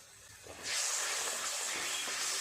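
Mustard, poppy seed and green chili paste with salt and turmeric frying in hot oil in a pan, a steady loud hiss that suddenly swells and keeps sizzling close up.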